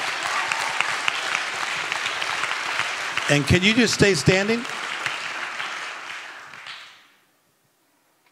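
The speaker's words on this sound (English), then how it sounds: "Clap your hands for her." An audience at an inspirational talk claps steadily for several seconds, a dense broad roar of hands that fades out near the end, while a speaker's amplified voice cuts through partway.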